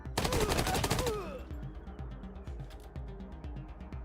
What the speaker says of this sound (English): Take some more shots on Brago.